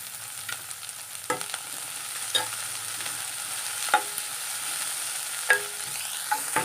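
Onion and curry leaves frying in a pan for fish curry, a steady hiss of sizzling oil broken by a few sharp clinks and scrapes of a spoon stirring, close up with no one talking.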